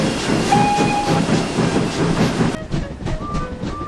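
Steam engines shunting freight cars along a railway, with rhythmic wheel clatter, hissing steam and brief whistle tones, loud and close before thinning to lighter clanks and squeals.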